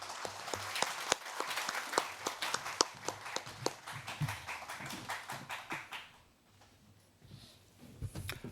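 An audience at a Korean National Assembly policy debate on industrial accident compensation insurance applauds warmly and steadily for about six seconds, then the clapping fades into quiet room noise.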